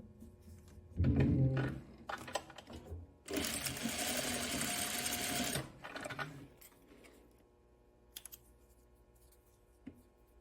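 Sewing machine back stitching gauze fabric: several quick bursts of rapid needle clatter, one longer steady run in the middle, then softer clicks and handling noises, close up and quiet, with no talk.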